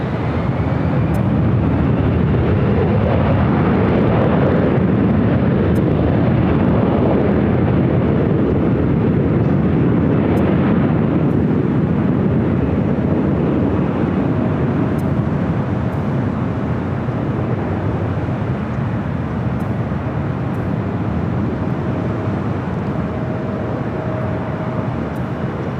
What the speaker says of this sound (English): This flight heading to Atlanta, it's a Delta